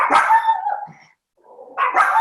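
Small dogs bark in two short, fairly loud bursts separated by a brief silent pause, heard alone with no talking.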